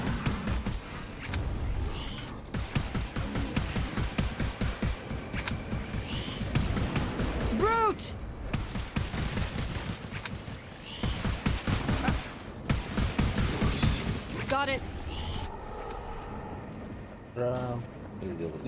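Rapid bursts of gunfire from the co-op shooter The Anacrusis, dense and nearly continuous with sustained automatic volleys and single shots, loud under overlapping talk, with occasional electronic weapon tones.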